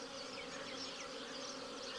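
Bees swarm and buzz thickly around a beehive under attack by wasps, a dense, steady, loud drone with no pauses and no voices.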